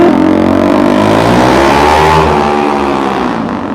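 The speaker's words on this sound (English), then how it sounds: "Oh, making all that noise with a scooter." Scooter engine revving loudly on a street in Edinburgh's Old Town, a close, strained buzzing whine that rises in pitch and then fades slightly as the scooter moves off.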